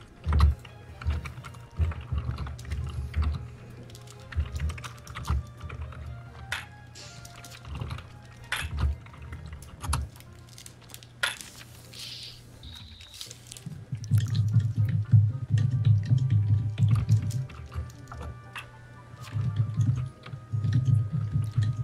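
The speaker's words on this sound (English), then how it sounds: "A lot of typing." Someone types on a computer keyboard in quick, uneven runs of clicks that go on throughout, close and fairly loud, over a low background hum.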